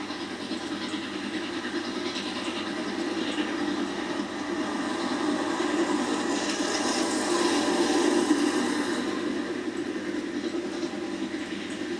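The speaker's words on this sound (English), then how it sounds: "that's a really good chuffing rhythm" A steam locomotive chuffs steadily in a continuous rhythmic beat, with hissing and rail rumble at a moderate distance.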